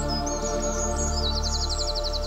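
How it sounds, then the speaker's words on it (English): A bird sings nearby in a rapid sequence of high chirping and trilling notes over a constant low background hum. "Bird songs are not only pleasing to the human ear"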